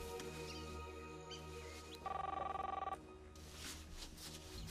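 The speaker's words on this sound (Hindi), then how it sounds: "ये लीजिए, फोन लग गया।" A telephone rings once on an outgoing call for a helicopter, one bright electronic burst of about a second, faint and set against a quiet background.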